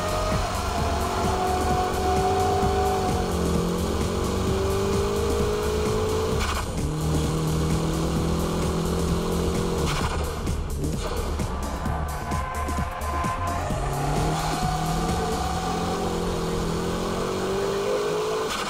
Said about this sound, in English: High-speed drifting, traction recovery is very quick, even during the counter-steering work.